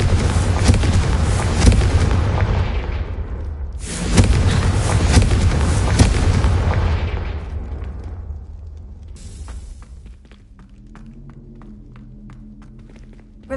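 Fire spell explosions sound in the video game Hogwarts Legacy: two loud, broad blasts with rumbling tails, then a fading roar and quieter tonal magic effects at the end.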